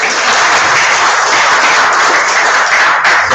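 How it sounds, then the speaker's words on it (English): Steady, dense applause from a meeting audience at a 2023 annual meeting and expo, loud and continuous throughout with no pauses and no talking over it. "Y'all can clap for her"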